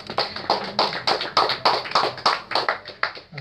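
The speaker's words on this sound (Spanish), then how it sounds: "Un aplauso para Nacho." An audience at an acoustic show claps for a guest in a steady, rhythmic beat of about a dozen sharp, close claps with no talking.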